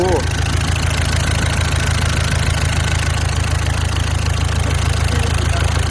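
A heavy machine's engine, an excavator or dump truck that has just been loosened up and is revving higher, runs in a steady, close, loud diesel idle with a rapid rhythmic knock, unbroken throughout.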